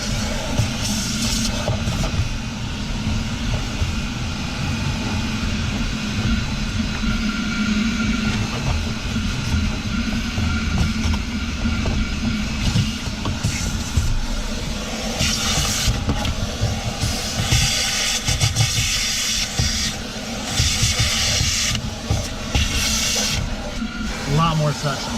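A Ridgid WD4070 wet/dry shop vacuum runs continuously during auto detailing, a steady rushing hiss and motor drone with fluctuating suction noise as the nozzle moves, while a person talks over it.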